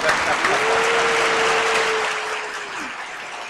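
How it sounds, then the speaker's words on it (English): Audience applauds a podcast guest, Big Greg, in a studio: dense, loud clapping fills the moment at a steady level, easing slightly toward the end, with a sustained tone running underneath. "Can we get a big applause for Big Greg?"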